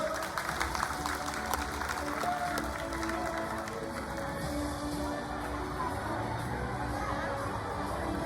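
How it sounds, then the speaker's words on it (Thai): Audience applause welcoming a foreign judge at a cattle and buffalo contest in Sanom, Thailand; a steady, dense wash of clapping and crowd noise with scattered chatter, held at an even level throughout. "ขอเสียงปรบมือต้อนรับกรรมการผู้ตัดสินมิสเตอร์อันเฟโดบุสตุน"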